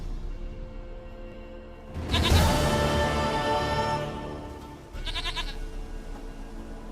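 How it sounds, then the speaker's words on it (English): A goat in The Witcher 3 game bleats in a loud, drawn-out cry, followed a few seconds later by a shorter second bleat over a low ambient background. "Goat of mine, dearest, sweetest goat."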